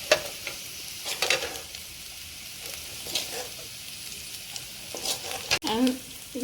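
Ivy gourd (kovakka) fries in hot oil with a steady, moderate sizzle, broken by a few scraping stirs and clinks of a spoon in the pan, close up, with no talking.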